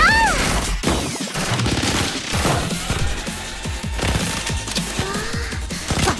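Rapid gunfire from the video game Blue Archive during a base defense stage: dense, overlapping bursts of shots with sharp cracks, fairly loud and continuous, layered with game effects throughout.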